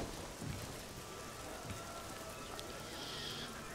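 Rain falling in Elder Scrolls Oblivion, a steady dense patter of drops at low level, continuous and without pause.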